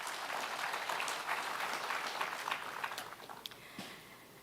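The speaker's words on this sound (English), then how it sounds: "I think my lady deserves a round of applause" Applause from a conference audience at the launch of a justice systems initiative in Embu, a dense round of clapping that gradually thins and fades out after a few seconds.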